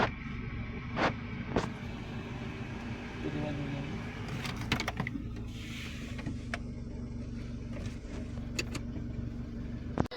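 A 2012 Hyundai i10 engine idles with a low, steady hum, while clicks and clunks sound close by and a voice speaks briefly.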